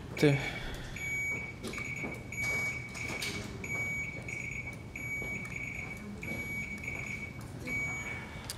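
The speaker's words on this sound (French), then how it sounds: "On va tester vos buzzers tout de suite." Repeated short electronic beeps from quiz buzzers being tested sound one after another at a steady pace, with murmuring voices and room noise underneath.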